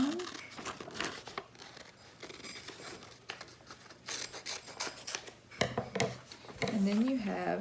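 Paper pattern pieces for a children's storybook are cut out with scissors, giving steady close snipping and crinkling of paper, with a voice speaking over parts of it.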